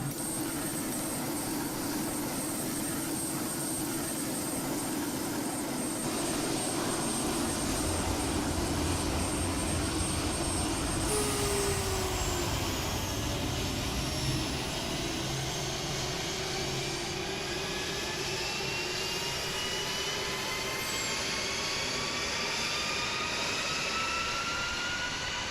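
F-16 jet engines start up in a flight simulator game, a steady turbine roar joined by whining tones that spool up and climb in pitch over time, with no talking.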